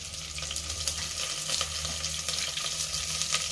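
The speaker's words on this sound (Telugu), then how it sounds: "5 పచ్చిమిరపకాయలు వేసుకుందామండి." Green chillies and curry leaves frying in hot oil for a Rayalaseema brinjal and greens curry, giving a steady, moderately loud crackling sizzle with faint stirring scrapes throughout, no voices.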